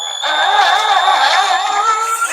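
A power drill whines steadily at close range, its pitch wavering up and down as it bores a hole into a Radioddity QT80 radio case, running nonstop for a couple of seconds.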